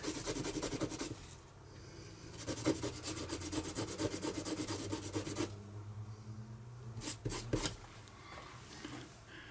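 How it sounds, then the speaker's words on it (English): A metal starter part from a Case 580C backhoe rubbed back and forth on a Scotch-Brite abrasive pad, giving rhythmic scrubbing strokes in bursts, close up and moderately loud with brief pauses between passes. "So it's got the same square on the back side. So we'll clean this up on the Scotch-Brite."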